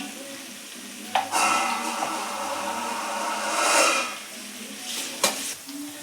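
A tomato and turmeric masala sizzles in a pan, a continuous frying hiss that swells while it is stirred, with a couple of sharp utensil knocks against the pan.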